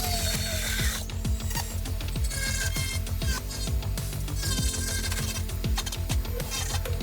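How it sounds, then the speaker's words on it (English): A Dremel rotary tool grinds and cuts a soft plastic lip on a Mk3 Supra bumper, a loud, continuous high whine with rapid rattling and chattering bursts as the bit bites into the material. "So I'm just gonna Dremel it."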